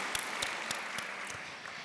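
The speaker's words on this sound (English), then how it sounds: "big round of applause." Brief applause from the audience at a climate MBA summit, a fairly faint patter of clapping with a few sharper claps standing out over a short stretch.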